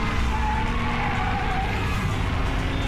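A car in the video game Battlefield 3 drives with a steady engine roar and skidding tires, loud and continuous throughout with no break.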